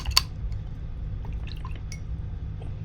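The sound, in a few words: rinsing an acrylic paint brush in water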